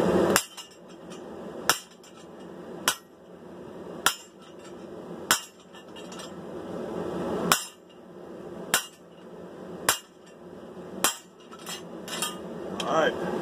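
Hammer blows ring out on a Viking sword blade being forged with a guillotine tool, about a dozen sharp metallic strikes at a steady, unhurried rhythm with clanging decay between them, close and loud.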